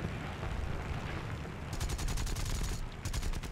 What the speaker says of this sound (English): I'm gonna pepper him with a few 30 caliber bullets, and then a few cannon shells as well.